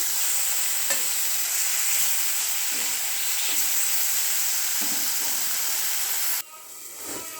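Tomatoes and eggplant fry in a pan with a loud, steady sizzle and hiss, broken by a few stirring scrapes before the sound drops off near the end.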